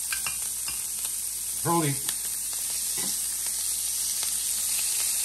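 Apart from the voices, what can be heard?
shrimp and scallops frying in garlic wine sauce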